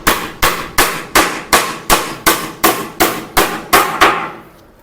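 Nails are hammered into wood while building a low-cost wooden table, with about eleven loud, close, evenly spaced hammer strikes in a steady rhythm, each one ringing briefly before the next blow.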